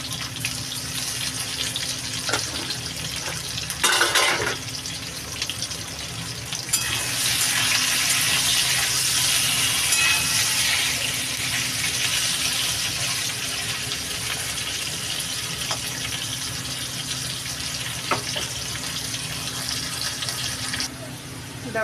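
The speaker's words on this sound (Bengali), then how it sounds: "এবার আমি আলুগুলো দিয়ে দেবো আলুগুলো মানে ভাজা ভাজা করে দেবো" Salted potatoes fry in oil in a home kitchen: a continuous close hiss and crackle, with a brief clatter near the start, then the sizzle swells louder and stays steady before easing off at the end.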